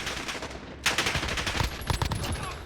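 An MK12 SPR rifle fires in close, loud bursts of rapid shots in Modern Warfare, played against bots. The shots ring out in uneven volleys.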